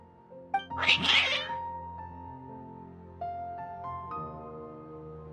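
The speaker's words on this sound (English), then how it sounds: "Your cats seem pretty worked up." Cats meowing in a worked-up state, one loud drawn-out yowl near the start and then quieter cries, set over a soft tonal background with no speech.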